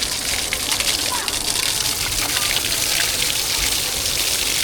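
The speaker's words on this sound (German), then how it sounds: "wir sind diesmal jetzt hier an so einer Dusche" Water runs from a campsite shower at a lakeside campground on Lake Garda, Italy, a steady close hiss and splash that continues without pause throughout.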